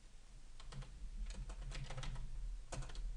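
An SQL command being typed on a computer keyboard, a steady patter of close, clicking keystrokes with brief pauses and no voice.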